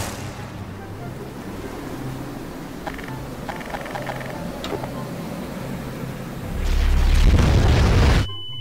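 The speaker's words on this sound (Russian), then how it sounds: "Серега, ну что, взрывай" A low rumbling background swells into a deep, loud explosion boom near the end, which then cuts off abruptly, in Garry's Mod.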